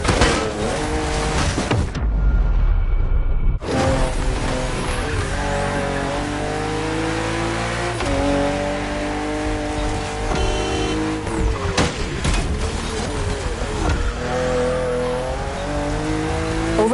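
BMW M2 and M4 cars racing in The Crew Motorfest on a narrow road full of sharp bends, engines roaring and revving continuously and loud throughout, with brief tire squeals and a short dip near the start.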